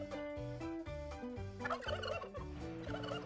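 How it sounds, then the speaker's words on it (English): A turkey gobbles nearby in a rapid, warbling burst of repeated notes, loud and clear with no voices over it. "It's a turkey."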